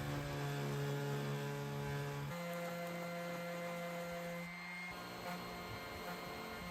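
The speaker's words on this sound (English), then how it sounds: "I then used 60 grit sandpaper and my orbital sander to sand it down as straight as possible." An orbital sander with 60 grit sandpaper runs steadily nearby on a wooden dresser, its motor droning in an even buzzing hum that drops slightly in pitch partway through, with no voices.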